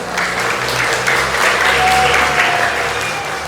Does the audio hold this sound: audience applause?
yes